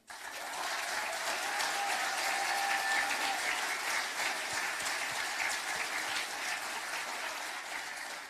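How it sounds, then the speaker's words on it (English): Sustained audience applause at an awards ceremony for film location professionals, a dense steady wash of clapping from a large crowd lasting throughout without pause. "So let's give all of our nominees a hand."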